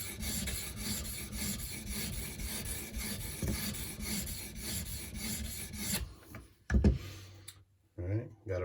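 An Edge Pro guided sharpening system rasps steadily along the edge of a Benchmade Nim Cub knife, with repeated close stone strokes that stop near the end and give way to a few clicks and light handling noises.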